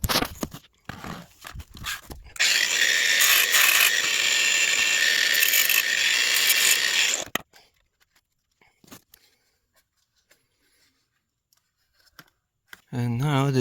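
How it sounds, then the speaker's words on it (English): An angle grinder cuts into plastic on a Renault car while a broken reverse camera signal wire is freed, giving a loud, steady whining roar for about five seconds between softer clicks and handling noises. "In order to get this wire out, I have to cut into the plastic a little bit. Angle grinder,"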